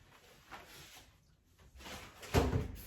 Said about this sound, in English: I am going to put this in the microwave.